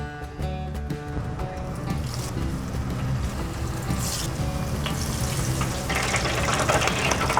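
Battered mushrooms fry in hot oil with a steady, dense crackling sizzle that runs unbroken and fairly close throughout.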